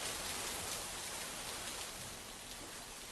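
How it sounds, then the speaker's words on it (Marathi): Heavy monsoon rain pours down in Rudraprayag, Uttarakhand, as a dense, steady hiss of falling water that holds an even, fairly quiet level throughout, with no voices. "उत्तराखंडमध्ये गेल्या काही दिवसांपासून मुसळधार पाऊस कोसळतोय"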